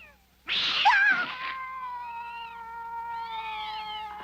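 A cartoon cat lets out a loud, drawn-out caterwauling meow, followed by softer wavering mews over a faint steady tone, with no talking.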